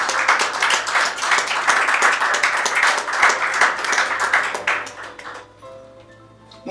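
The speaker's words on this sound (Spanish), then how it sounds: "Den un aplauso a Cristo." Church congregation applauding, a dense wash of claps filling most of the stretch at close-to-moderate distance before thinning and dying away near the end, leaving faint room tone.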